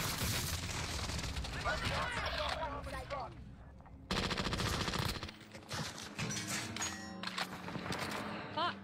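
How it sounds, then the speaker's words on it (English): A precision airstrike in the video game Warzone pounds down as heavy, continuous bursts of gunfire and explosive blasts. The barrage drops away briefly near the midpoint, then resumes, with voices talking over it. "Enemy precision airstrike."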